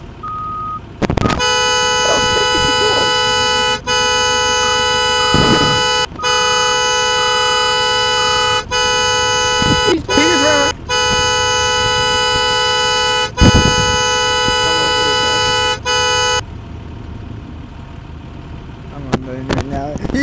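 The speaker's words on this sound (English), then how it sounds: "I thought I just honked him." A school bus horn in a bus simulator video game sounds a long, loud, sustained tonal blast with brief breaks, followed by quieter engine and road noise.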